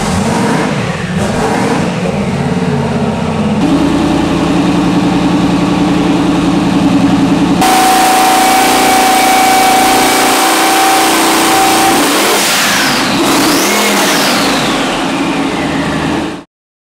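A 427 twin-turbo Chevrolet LS V8 engine rumbles and idles loudly, then revs up in a few rising sweeps near the end before cutting off.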